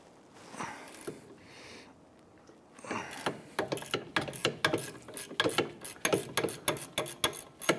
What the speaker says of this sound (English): On the back side, there's two 15mm bolts. And get a ratchet on there.